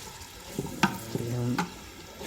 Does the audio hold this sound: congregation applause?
no